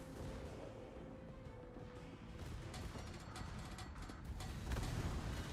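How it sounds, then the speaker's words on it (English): Secondary guns of a warship firing in World of Warships: a steady low roar of distant booms and rumbling thuds, faint and dense, with scattered sharper reports through the battle noise. "Alright, so what is our secondaries firing at here?"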